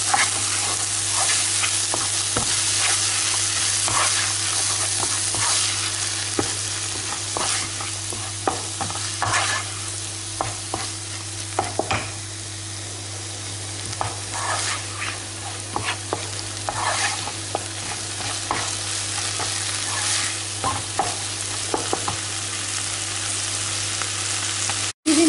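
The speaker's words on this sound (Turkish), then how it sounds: "Daha sonra yeşil biber, domates, sarımsak, tuzlu karabiber ekledim arkadaşlar." Green pepper, tomato and garlic fry in a pan while being stirred, producing a steady sizzle broken by repeated scraping knocks of the utensil, close and continuous with a low steady hum underneath.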